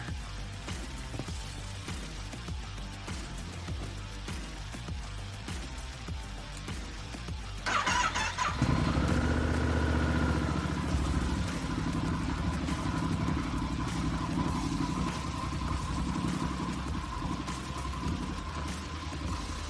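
A motorcycle engine fires up partway through after steady background rumble, then settles into a continuous close idle hum with a faint whine, loud and unbroken with no talking.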